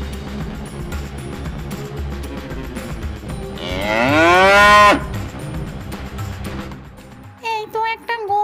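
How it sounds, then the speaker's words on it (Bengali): A cartoon cow lets out one long, loud, drawn-out moo midway, rising and falling over steady background music, followed by a few short vocal sounds near the end. "এই তো একটা গরু আর একটা ছাগল।"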